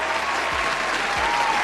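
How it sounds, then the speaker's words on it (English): An audience applauds, with dense, even clapping that holds steady throughout a short, continuous burst. "Let's give him a round of applause."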